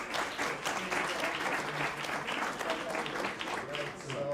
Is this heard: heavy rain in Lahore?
no